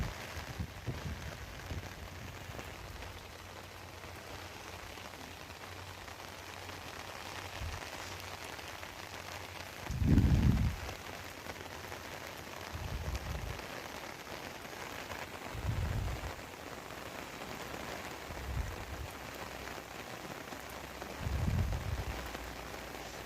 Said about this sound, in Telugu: నాన్ స్టాప్గా వర్షం పడుతూనే ఉందండి